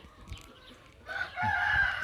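A rooster crows in a backyard chicken coop in the morning; after a quiet start, one loud, close, drawn-out crow fills the second half.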